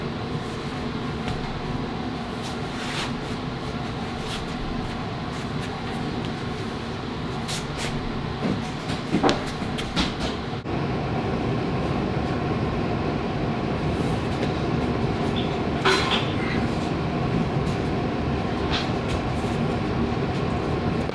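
A train rolls past a rural homestead, a steady rumbling wash with faint clicks and squeals that grows louder in the second half and continues throughout.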